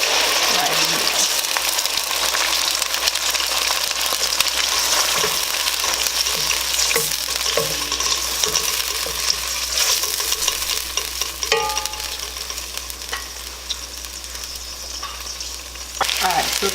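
Blended onion, garlic and ginger paste frying in a fish and vegetable sauce, Ghanaian style, giving a steady, loud crackling sizzle with stirring scrapes that holds throughout.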